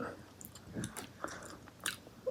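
Someone takes close, quiet bites of crunchy, lightly blanched white asparagus and chews, with a few small crisp snaps and soft wet mouth noises spread over a couple of seconds.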